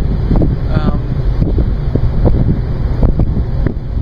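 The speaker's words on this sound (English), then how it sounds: "I just hope it's not going to be that windy as it is" Gusty wind near San Juan Island buffets the microphone in a loud, rumbling roar, with a few faint knocks and a voice briefly under it.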